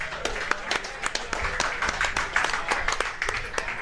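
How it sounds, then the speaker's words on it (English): A crowd claps for the host at a Leander Lion Football Booster Club podcast event: a dense, steady round of applause with sharp individual claps, mixed with voices talking over it. "Let's get a round of applause for Guaco Taco,"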